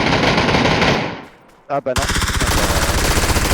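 Automatic gunfire in PUBG, a loud rapid burst that cuts off, a brief pause with a short spoken reaction, then another sustained rattling burst.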